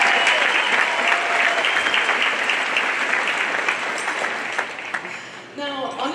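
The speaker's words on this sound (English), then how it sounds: "Let's get another round of applause." Sustained applause from a high school graduation crowd, loud and dense clapping that slowly fades over several seconds before a voice begins speaking.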